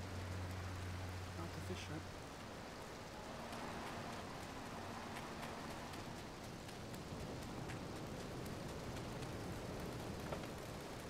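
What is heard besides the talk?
rain falling in video game Grand Theft Auto III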